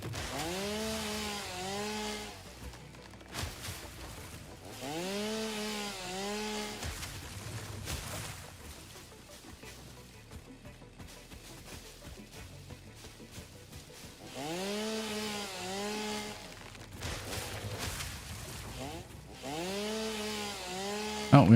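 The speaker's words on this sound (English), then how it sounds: "we're also running out of biofuel on our little chainsaw here" A biofuel chainsaw in the game Satisfactory revs and cuts into a tree in repeated bursts of a rising and falling engine whine, with a quieter idling stretch in the middle before the cutting resumes.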